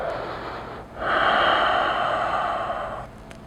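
One person breathes deeply during an overhead-mobility exercise, with a short intake followed by a long, breathy exhale lasting about two seconds, close and clear against quiet room noise.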